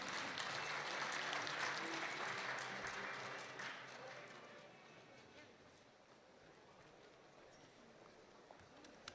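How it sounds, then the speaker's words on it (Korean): Audience applause welcomes a Korea Development Institute (KDI) speaker to the stage, a dense, loud clatter of many hands that gradually fades away. "뜨거운 박수로 부탁드리겠습니다."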